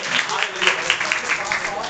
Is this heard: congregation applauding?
yes